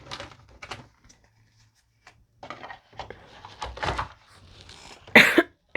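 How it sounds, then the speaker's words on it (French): A sharp, loud cough bursts out near the end after scattered quiet shuffling and small knocks. "Excusez-moi pour la toux."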